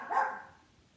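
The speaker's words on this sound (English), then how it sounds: "I'm sorry about the background noise and the dog barking." A dog barks once in the background, a single short muffled bark fading into quiet room noise.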